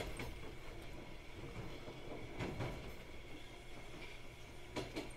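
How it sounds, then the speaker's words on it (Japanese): Steady rumble of a video-game commuter train rolling along rails at night, with faint rhythmic clacks and a couple of brief higher rattles, continuous and fairly quiet. "電車の音がめっちゃ聞こえてるわ"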